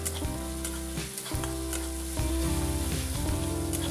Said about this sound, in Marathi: हे पहा मस्त असं तेलावरती छान आपली फोडणी भाजून घ्यायची कांदा आलं लसूण मिरचीची पेस्ट छान भाजून आलेली आहे